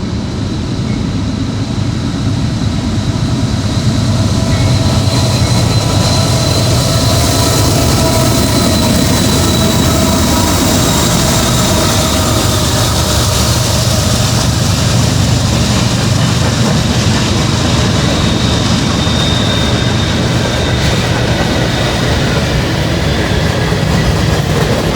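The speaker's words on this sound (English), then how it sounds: "Norfolk Southern. Looks like a grain train, let's put it this way." A Norfolk Southern grain train rolls past close by, a loud continuous rumble of railcars with clickety-clack wheel noise and a faint whine, steady for the whole stretch without talk.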